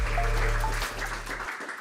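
Audience applause for a speaker at a C++ conference in Belgrade, moderate, fairly quiet clapping over a low electronic hum that cuts out partway through.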